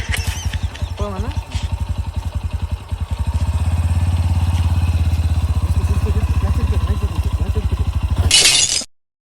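Motorcycle engine thumping at a rapid, even idle, rising into a steadier, louder drone as a learner releases the clutch, ending with a sharp rattling burst before it cuts out.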